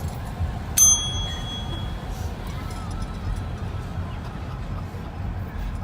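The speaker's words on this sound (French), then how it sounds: "On va amortir ta cloche." A bicycle bell gives a single bright ding early on, ringing out briefly over a steady outdoor background rumble with faint voices.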